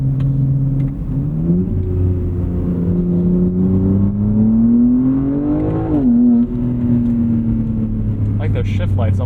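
A 2025 BMW G80 M3 Competition xDrive revs in manual mode, its engine droning loud and close from inside the cabin as the pitch climbs, dips between shifts and climbs again through several gears.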